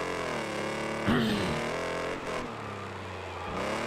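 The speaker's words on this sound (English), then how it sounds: "if you rip the muffler out of these cars, it's probably what they'd sound like" A loud, raspy car engine from the racing video game Wreckfest 2, with no muffler, drones and revs with a harsh, unmuffled tone, shifting pitch partway through.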